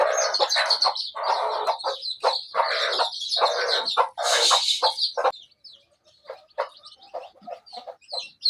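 Chickens on a small home farm cluck loudly and busily at close range, a thick chorus of overlapping calls that thins into scattered, softer clucks toward the end.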